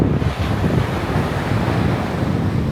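Steady roar of stormy ocean surf breaking at the shore in Tenerife, mixed with heavy wind buffeting the microphone, loud and continuous throughout with no pauses.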